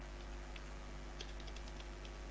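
Keys patter on a computer keyboard while Python code is typed, a quick soft run of clicks in the middle of the clip over a steady electrical hum.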